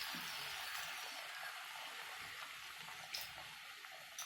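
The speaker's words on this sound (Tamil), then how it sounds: "இப்போ நான் இதுல ஒரு 1/4 கப் அளவுக்கு தண்ணியை தெளிச்சுக்கிறேன்." A quiet, steady hiss of a quarter cup of water sprinkled over beans in a hot cooking pan, continuous throughout with no voices.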